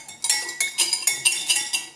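Salmon, apple and avocado tartar with chopped chives is stirred in a bowl, a metal utensil clinking against the sides in a quick, steady rhythm of about eight bright taps, close up and with no talk.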